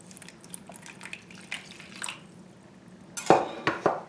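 Baker's yeast and a little water go into a small bowl, with soft clinks and light drips at first, then a louder close splash and trickle of pouring water near the end.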